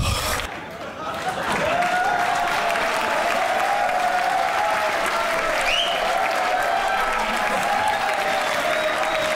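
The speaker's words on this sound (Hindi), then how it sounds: "आप सबकी भरपूर तालियों में सोहेल वराइच" Sustained audience applause with some cheering welcomes Sohail Warraich onto the stage at a comedy show, loud and dense throughout, with a few voices calling out over the clapping.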